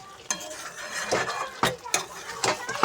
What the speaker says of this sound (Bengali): এখন মাটনটা রান্না হচ্ছে, দেখো লাল লাল মাটন